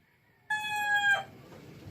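A rooster crows once, a loud harmonic call lasting under a second that breaks off abruptly, followed by faint background noise.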